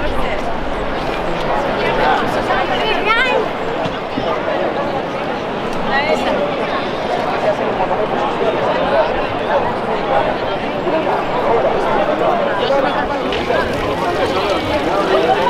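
A large crowd of tourists chatters by a domed landmark in Rome, a dense, loud, continuous wash of overlapping voices and footsteps that fills the whole stretch.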